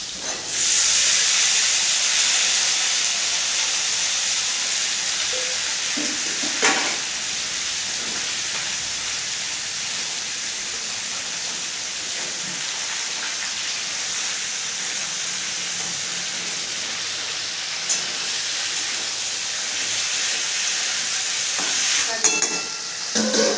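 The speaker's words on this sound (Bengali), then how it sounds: "লেবু পাতাটা একটু ভাজা ভাজা করে নেবো" Steady hissing sizzle of lemon leaves frying in hot oil, continuous throughout with a few faint clinks and stirring sounds.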